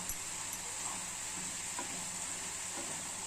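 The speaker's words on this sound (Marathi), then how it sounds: "बघा, छान असा कच्चा बटाटा शिजत आहे, शिजू द्यायचा" Raw potato cooks in a pan with a faint, steady sizzle of frying, broken by a few light scraping clicks. The sound is quiet and close, with no talk.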